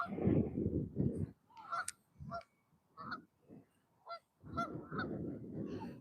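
Geese honk in an irregular series of calls outdoors on a cold winter fishing outing, with bursts of nasal honking clustered at the start and end and quieter single calls between.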